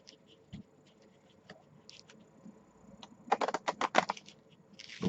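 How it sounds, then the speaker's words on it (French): Two packs of playing cards are shuffled together, faces up and faces down mixed, with a quiet, scattered flutter and a denser run of close riffling clicks near the end. "Donc on va mélanger les deux paquets"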